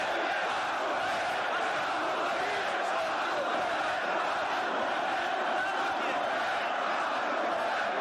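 A large crowd at a protest rally fills the air with a steady, dense roar of voices and shouts, continuous and fairly distant, with no single voice standing out.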